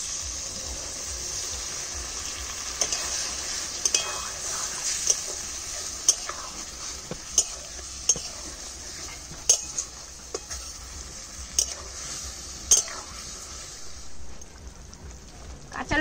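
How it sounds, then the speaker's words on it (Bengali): Fish curry of tangra and khoyra fish sizzles steadily in a pan as water from rinsing a plate is poured in, with occasional sharp utensil clicks and scrapes over the constant frying hiss. "এবার থালাটা ধুয়ে একটু জল দিয়ে দিলাম।"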